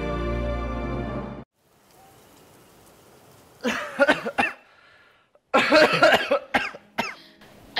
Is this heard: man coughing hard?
yes